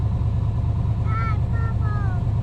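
A car engine fitted with a rebuilt Holley 4779 carburetor idles steadily and loudly close by, a continuous low rumble, with faint whistling tones briefly riding over it.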